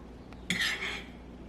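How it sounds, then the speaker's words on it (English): Top round beef strips being coated in a bowl, with a short clink and scrape of utensil against the bowl partway through, then a softer rustling shuffle as the strips are tossed; near and fairly quiet. "You just take it and put it all in here, and you just coat it really good."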